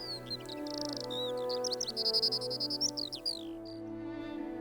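A skylark sings a rapid, continuous warbling song of high trills and chirps on the Mendip Hills, close and clear over a quiet background.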